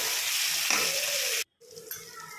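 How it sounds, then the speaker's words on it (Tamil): Onions and tomatoes sautéing in a pan for a prawn dish, producing a loud, dense sizzle that cuts out briefly and then resumes a little quieter, with no talk. "இப்போ வெங்காயம் தக்காளியும் சேர்த்து நல்லா வதக்கி விட்டுக்கலாம்."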